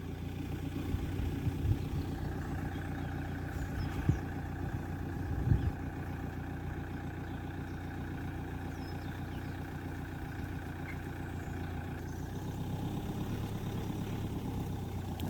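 A camper van engine starts and then idles with a steady, low mechanical rumble at a service area for waste-water draining. A few brief knocks come early, then the even drone carries on alone and close by.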